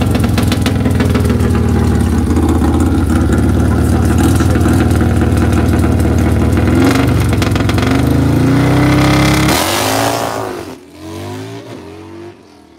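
Pro Street Harley drag-race bikes rev loud and close, a sustained roaring engine drone with rising pitch sweeps, then the revving drops off and fades to a lower rumble near the end.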